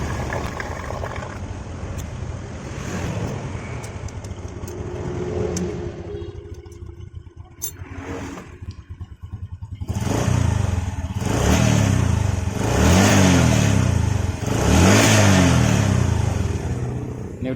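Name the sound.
Honda Supra 125 motorcycle engine running and revving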